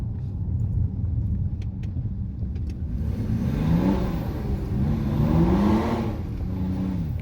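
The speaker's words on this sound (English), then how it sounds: "That don't sound too bad for a diesel, and that was all wheel spin." A diesel BMW 325d engine with an aftermarket exhaust revs hard and rumbles loudly in a tunnel, the roar swelling and echoing, with rising pitch sweeps and wheelspin through the clip.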